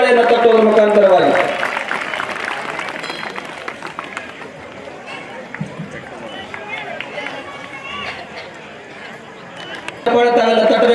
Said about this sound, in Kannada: ಜೋರಾಗಿ ಚಪ್ಪಾಳೆ ತಾವೆಲ್ಲ ತಟ್ಟಬೇಕು.